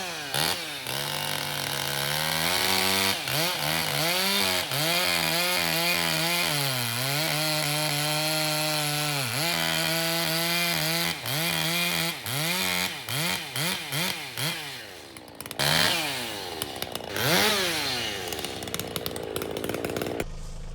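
Chainsaw cutting oak firewood logs outdoors in Oklahoma, the engine loud and close, revving and bogging repeatedly through cuts with wavering pitch, then sputtering and rising again near the end.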